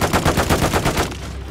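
Rapid automatic gunfire in a Call of Duty Domination match, a dense run of loud, evenly spaced shots for about a second that then cuts off, leaving quieter game ambience.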